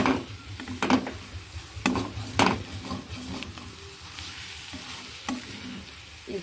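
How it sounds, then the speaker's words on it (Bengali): A spatula stirs food frying in a pan, giving intermittent scraping strokes over a soft, steady sizzle, close and fairly quiet with no talking. "খুব ভালো করে আমি এটাকে নেড়ে নেব।"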